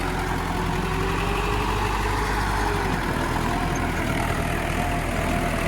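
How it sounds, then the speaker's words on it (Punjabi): A three-speed tractor pulling a rotavator runs in fourth gear, its engine droning loudly and evenly nearby without any break, and nobody speaks over it. "ਚੌਥਾ ਲੋ ਲਾਦਾ ਬਾਈ ਤੇ ਬਿਲਕੁਲ ਆਰਾਮ ਨਾਲ ਚੱਲ ਰਿਹਾ ਤੇ ਟਰੈਕਟਰ ਵੀ ਬਿਲਕੁਲ ਸਹੀ ਚੱਲ ਰਿਹਾ ਦੇਖੋ"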